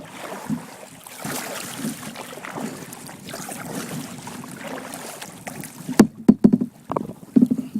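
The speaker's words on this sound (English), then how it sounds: "It's gotten windy." Wind gusts across the microphone while a kayak is paddled out on the open water of a bay, with a steady rushing and then several sharp, close knocks and splashes near the end.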